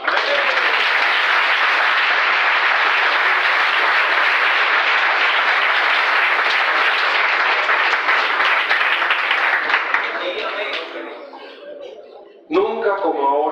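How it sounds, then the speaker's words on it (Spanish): An audience at a regional church conference applauds loudly and steadily for about ten seconds before the clapping thins out and fades, with a voice briefly heard at the end. "Entonces vamos a darle un aplauso al Señor."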